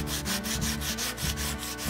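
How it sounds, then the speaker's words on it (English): Sandpaper is rubbed back and forth over the end of a wooden barrel stave where a spile was trimmed off, giving about ten rhythmic, close, loud scratchy strokes. "we're going to use some sandpaper to smooth it over"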